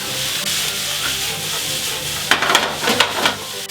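Meat and bell pepper frying in a pan, a steady soft sizzle with stirring scrapes growing louder near the end, no voices.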